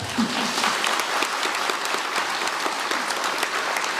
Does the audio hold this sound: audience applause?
yes